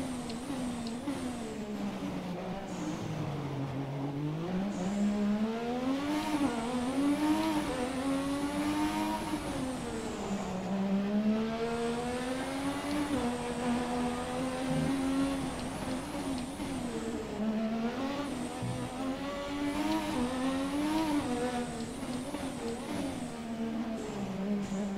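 A high-pitched McLaren MP4/4 Formula 1 engine in the video game F1 2017 whines continuously, rising and falling as it shifts gears and revs through a lap, steady and fairly quiet.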